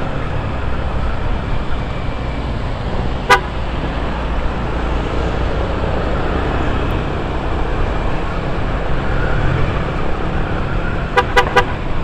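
A vehicle horn honking in traffic, heard as one short toot and then a quick cluster of toots over a loud, constant engine and road rumble.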